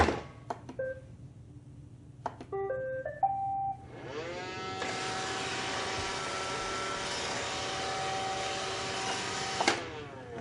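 A robot vacuum cleaner starts up with a short series of electronic beeps and a rising chime, then settles into a steady, even whirring and brushing hum that runs for several seconds before stopping.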